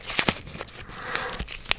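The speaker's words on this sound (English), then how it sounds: "You can hear the sound of the stickiness of that sticker that was used on the box" Sticky sticker peeled off a cardboard box and folded up, close soft tearing and crinkling with a few sharp crackles, quiet and intimate, no speech.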